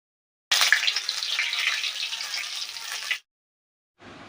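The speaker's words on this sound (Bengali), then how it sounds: "আমি তেজপাতা দিয়ে সামান্য একটু হলুদ গুঁড়ো দিয়েছি তেলে" Turmeric powder and bay leaf hitting hot oil give a loud, bright sizzle that starts abruptly, hisses steadily for nearly three seconds, then cuts off, followed by a quieter sizzle.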